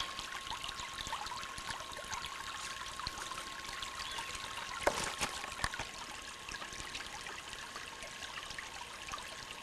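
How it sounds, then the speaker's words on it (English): Clear Creek, fed by wetlands near Old Wagon Road in Bigwind Provincial Park, trickles and gurgles softly in a faint, continuous wash of running water, with a slightly louder splash near the middle and no talking. "This is Clear Creek, just off of Old Wagon Road, and this flows from the wetlands throughout the park"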